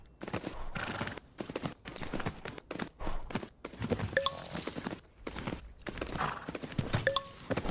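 Hooves clip-clop in a steady walking rhythm as an older horse moves at an unhurried pace in the horse riding game Tales of Rein Ravine, fairly soft with small chiming effects now and then.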